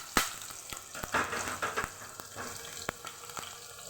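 Ginger frying in a pan gives a soft, close sizzle broken by a few sharp clicks and taps of a utensil, fairly quiet and uneven.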